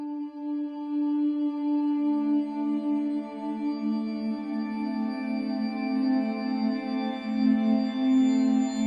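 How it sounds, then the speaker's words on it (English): Glassy Omnisphere synth texture with all layers sounding together, a smooth, deep sustained tone with shimmering harmonics that holds steadily at moderate volume for the whole stretch, with no voices. "So now we can play all the layers together."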